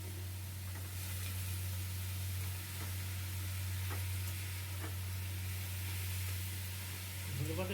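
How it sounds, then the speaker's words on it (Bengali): Chopped banana stem frying in hot oil, a soft continuous sizzle under a strong steady low hum, with a few faint clicks of the pan and a slight rise in noise at the end. "এইবার দেওয়া হচ্ছে আগে থেকে কেটে রাখা থোড়গুলি, দিয়ে দেওয়া হচ্ছে গরম তেলের মধ্যে।"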